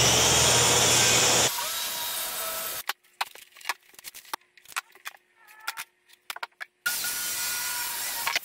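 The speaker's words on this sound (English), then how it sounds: "now I can cut this to length using the circular saw" A circular saw cuts a shelf board to length for a farmhouse console table: a loud, harsh whirring burst that winds down, then scattered knocks and clatter of wood, then another steady roar of the saw.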